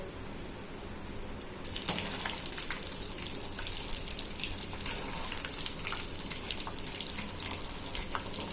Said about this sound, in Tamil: இந்த எண்ணெய் இப்படி பாருங்க, இதாகி வரணும், மேலே பொங்கல் பார்த்தீங்களா